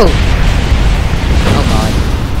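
A rocket blowing apart in Kerbal Space Program, a loud sustained rumbling blast with dense low-end roar and crackling debris that holds steady throughout, a voice briefly audible over it.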